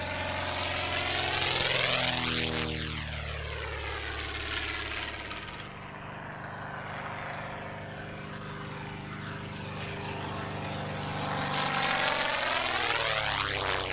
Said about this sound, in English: Another flying legend is the Percival Mewgull.